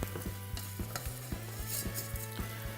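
Risotto rice stirred in olive oil in a pan, sizzling steadily close up while a spoon scrapes and clicks in a quick, regular rhythm, with no talk.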